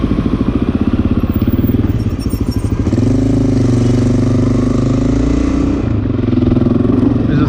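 A KLR motorcycle engine with a slight exhaust leak at the header idles loud and close, its steady chugging pulses ticking at first, then settling into a continuous, even rumble with no talking.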